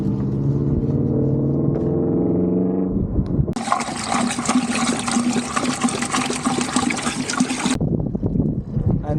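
Water gushes and splashes steadily from a jug of ice water for several seconds after a low humming rumble, then cuts off abruptly, leaving faint trickling.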